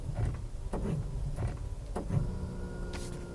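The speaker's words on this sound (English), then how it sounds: "The brakes make an odd sound, listen." Toyota RAV4 brakes make an odd repeated mechanical noise from inside the SUV, soft clicks or creaks recurring roughly every half second, then a steady whirring hum.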